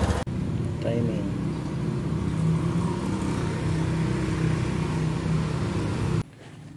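A Honda Wave 110 motorcycle engine idles steadily after a valve adjustment, a close, even mid-pitched putter with no ticking, running for several seconds before cutting off abruptly.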